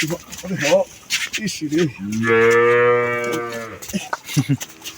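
A large, tall dairy cow lets out one long, loud, close moo lasting about two seconds, with people talking just before and after.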